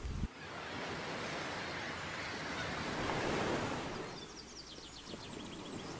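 Ocean surf washes steadily along the harbor shore at Plymouth, a continuous broad rush of waves with wind noise on the microphone and faint birds chirping near the end.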